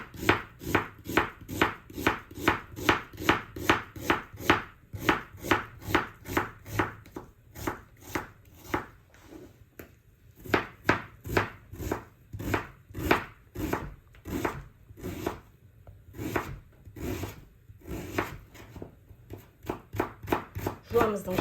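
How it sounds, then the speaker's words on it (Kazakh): An onion being finely chopped with a knife on a board, a long run of quick, regular close taps that slows into spaced, uneven cuts before speeding up again, with talking woven throughout. "Майдалап жуамызды тураймыз бірінші."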